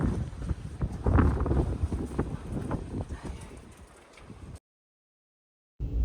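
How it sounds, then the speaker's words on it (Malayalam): Strong wind buffets an outdoor microphone at a roadside bus stop near Port Stanley in the Falkland Islands, a loud continuous rumble that gusts and fades, cuts out briefly, then returns. "നന്നായിട്ട് കാറ്റ് വീശുന്നതുകൊണ്ട് ഞാൻ പറയുന്നതൊന്നും അത്ര ക്ലിയർ അല്ല"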